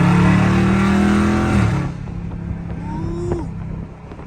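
Loud Dodge Charger Scat Pack V8 engine revving hard while weaving through traffic, a heavy throaty roar for the first second and a half before dropping to a quieter idle rumble with a brief rev near the end.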